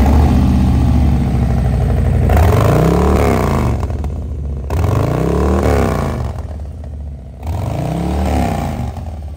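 Harley-Davidson Low Rider S, a 2022 motorcycle with a 117-cubic-inch 1923cc V-twin, idles loudly close by with a deep lumpy throb, blipped in three rising revs separated by brief dips.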